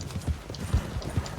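A temperamental war horse in Red Dead Redemption 2 moves with rhythmic clip-clop hoofbeats, several soft thuds in quick succession at moderate distance, with no talk.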